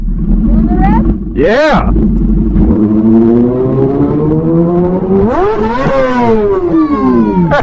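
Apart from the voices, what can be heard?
Kawasaki ZX-10R motorcycle engine revving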